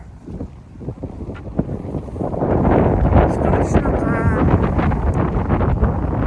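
Wind blows outdoors as a steady rushing roar that swells louder midway and stays strong, with a voice talking underneath.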